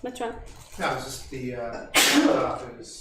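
A sharp, loud sneeze bursts out after a few spoken words, close to the microphone.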